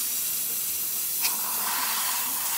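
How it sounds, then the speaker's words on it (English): The steam wand of a La Pavoni espresso machine hisses steadily and close, a broad, even rush of steam throughout with a brief sharper spurt near the middle. "And now for the steamer."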